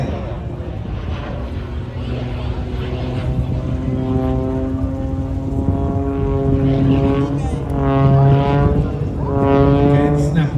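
An aerobatic plane snap-rolls across the sky at the Ayr air show, its propeller drone loud and continuous with rising and falling pitch sweeps, under steady commentary from a man.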